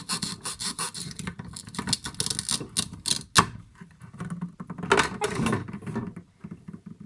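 A knife cuts through washed corn in bursts of close, rasping, scraping strokes with short pauses between them and a brief knock partway through.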